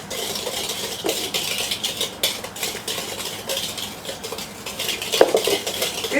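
Pumpkin dump cake batter of sugar, cinnamon and salt stirred by hand in a bowl, with close, continuous scraping and clinking of a utensil against the bowl for several seconds.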